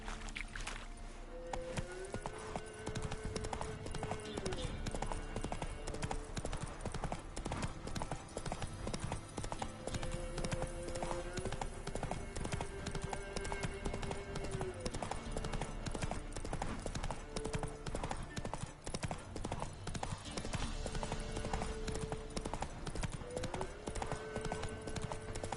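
Roach the horse galloping in The Witcher 3, a steady rapid clip-clop of hooves running on and on under a continuous layer of game music.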